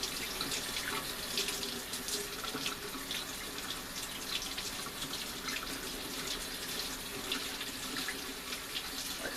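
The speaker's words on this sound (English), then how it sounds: "you don't want to just rinse off the pickling spice. You want to rinse and rinse and rinse and rinse" Tap water running steadily over brined beef in a sink as it is rinsed, a constant gentle splashing stream with no pauses, fairly soft and close.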